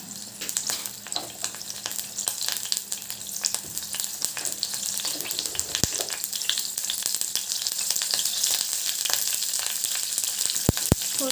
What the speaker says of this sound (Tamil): கருவேப்பிலை கொஞ்சமாக போட்டுக்கலாம்.